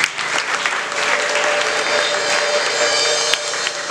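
An audience breaks into loud, sustained applause, a dense wash of clapping that holds steady throughout, close and full.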